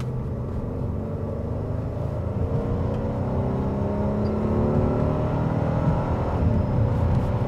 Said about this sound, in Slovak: tak si hneď vyskúšame, ako sa toto auto cíti pri takom šprinte